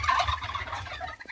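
Four male turkeys gobble in a brief, rapid rattling burst, fairly close and moderately loud, with no talking.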